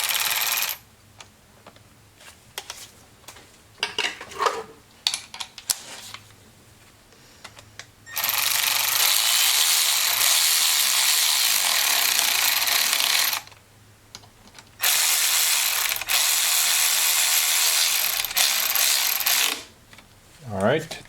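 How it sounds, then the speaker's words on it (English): A 3/8-inch ratchet runs spark plugs down in a 2011-2016 Chevrolet Cruze engine. Scattered light clicks and handling noises lead into two long, loud, steady bursts of rapid ratcheting close by. "we're just gonna tighten them by hand with the 3/8 ratchet."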